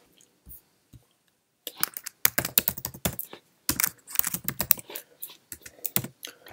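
Typing on a computer keyboard into a blank Microsoft Word document: a few isolated key taps, then a quick, uneven run of close, crisp keystrokes.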